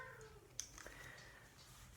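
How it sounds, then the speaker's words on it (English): A faint, muffled meow from a cat somewhere in the distance, brief and low against quiet background hiss. "You can hear my cat in the background."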